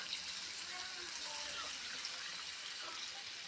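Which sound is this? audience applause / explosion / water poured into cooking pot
water poured into cooking pot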